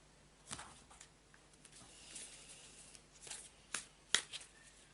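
A deck of tarot-style cards shuffled by hand close up, soft riffling and sliding with a few sharper snaps of cards near the end, quiet and without talk.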